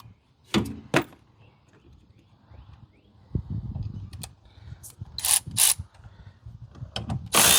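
A 10 mm socket ratchet loosens bolts on a GMC Envoy or Chevy Trailblazer inline-six during a water pump swap, with sharp clicking bursts and scattered metallic clanks in a quiet garage.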